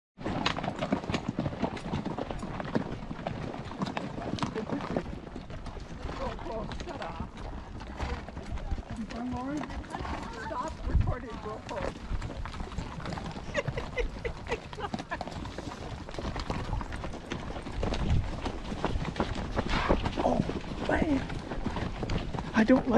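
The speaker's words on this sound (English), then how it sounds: "I don't like my horse running." Horses clip-clop along a wilderness trail ride on the way to the Flathead River, hoofbeats plodding steadily and close throughout, with people talking over them.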